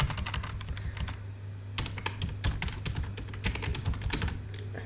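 Typing on a computer keyboard while entering account details, with steady clusters of crisp key clicks in irregular bursts, close and clear, over a constant low electrical hum, with no voices.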